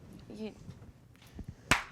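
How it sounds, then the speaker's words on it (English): A single sharp hand clap lands near the end, close and fairly loud, after a moment of quiet murmured voices. "We clapped. She clapped."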